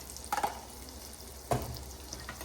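Spoon scraping and stirring a spice mixture of masala, turmeric, garam masala and Kashmiri red chili in a pan while preparing an eel fish curry, two distinct stirring scrapes over a faint sizzle.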